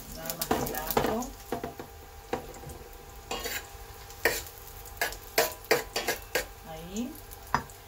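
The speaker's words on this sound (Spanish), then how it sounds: "echamos el ajo picadito" Chopped garlic frying in a pan for stir-fried rice noodles, with a soft background sizzle broken by repeated stirring scrapes and clanks of utensil against the pan, close and intermittent, without talk.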